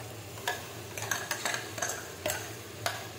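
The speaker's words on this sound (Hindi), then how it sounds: "अब यहीं पे मैं डाल देती हूँ प्याज और लहसुन का जो मैंने पेस्ट बनाया है उसे," Onion and garlic paste frying and being stirred with spices in a pan while cooking elephant foot yam, with soft scraping strokes every half second or so over a steady low sizzle.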